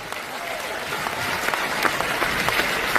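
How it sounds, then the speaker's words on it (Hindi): An audience at a stage talk claps in scattered, uneven bursts, with individual sharp claps rising over a continuous crowd murmur and some talking underneath. "आप मेरे साथ हैं तो जब थोड़ी थोड़ी देर में ताली बजाते रहना"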